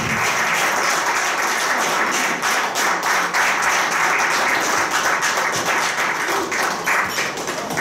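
Audience applause at an official conference launch event, a thick, continuous wash of many hands clapping that stays loud and even throughout.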